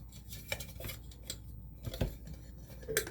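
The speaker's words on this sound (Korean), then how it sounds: "전선 넣으셔서 뚜껑을 덮어주실게요" A metal lid pressed onto a tin can holding a power switch and wiring, heard as quiet metallic clicks, scrapes and light taps spread over a few seconds, faint and close, with no talking.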